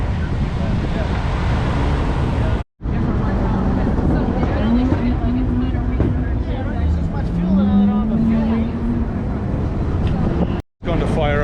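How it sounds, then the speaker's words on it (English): A race car engine idles roughly, apparently running on three cylinders with a possible cracked head, giving a loud, uneven, sputtering drone under nearby voices, with two brief dropouts in the sound. "Going to fire up Jason's car, and it sounds like it's running on 3 cylinders"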